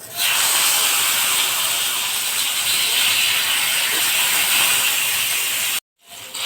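Bitter gourd slices drop into hot oil and set off a loud, steady hiss that holds close and unbroken for several seconds, then cuts off suddenly and starts to rise again at the very end.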